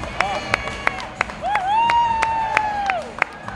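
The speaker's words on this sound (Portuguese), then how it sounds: "Uma salva de palmas para os atletas" An audience applauds and cheers after a Muay Thai fight at a GP Extreme event, with scattered sharp claps over a crowd murmur and a whistle-like tone rising and holding in the middle.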